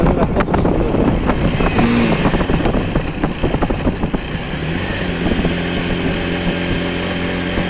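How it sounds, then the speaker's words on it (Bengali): A motorcycle engine revving and labouring as it climbs a steep hill road in Chittagong, loud and close, settling into a steadier drone toward the end. "এই প্রথম হচ্ছে যে পাহাড়ি রাস্তা বাইক চালাচ্ছি"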